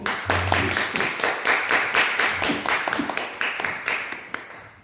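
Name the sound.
audience applause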